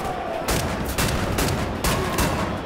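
Sharp bursts of gunfire in the video game Wolfenstein: The New Order crack out in quick clusters, loud and close, with a steady hum of background noise between volleys.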